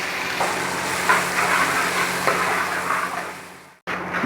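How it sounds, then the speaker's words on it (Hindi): Sliced onions fry in about 50 ml of oil in a cooking pot, giving a steady, loud sizzle with faint stirring scrapes and a brief pause near the end. "जैसे ही हमारे प्याज थोड़े से हल्के से फ्राई होंगे"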